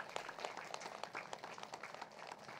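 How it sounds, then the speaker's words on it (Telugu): Audience clapping at a Telugu spiritual gathering, a steady wash of many hands applauding together at moderate distance for a few seconds, with no talk over it. "గట్టిగా చప్పట్లు కొడదాం"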